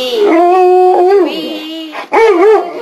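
A big dog howls in long, wavering, melodic tones alongside a person singing, loud and close, the howls rising and falling in a duet with a short break before a final howl.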